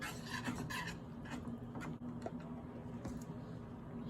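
A whisk scrapes and rasps steadily in a pan as cheese is worked into Alfredo sauce over low heat, a soft continuous rubbing sound close by.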